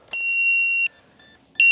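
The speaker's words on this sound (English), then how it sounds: "it's the ESC. The ESC is also beeping." An RC plane's electronic speed controller beeps: a long, loud, steady electronic tone, a brief pause with a faint lower note, then a second sharp beep starting.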